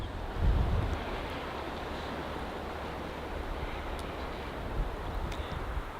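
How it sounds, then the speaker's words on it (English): Wind blowing through a spruce and larch bog forest in April, a continuous broad rushing hiss with a stronger gust near the start, steady and enveloping with no voices. "The only sound is the wind and nature."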